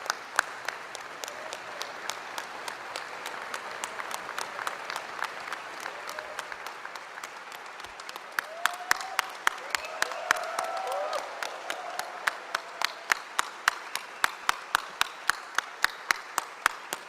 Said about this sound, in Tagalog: Hindi mo alam pumapalakpak si ano, Risa Hontiveros.